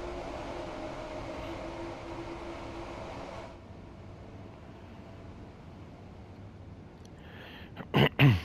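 A train passing in the Train Sim World 3 simulator on the Three Bridges to London Victoria run: a steady rumble that drops off after a few seconds, then quieter hum and a couple of sharp clunks at the end.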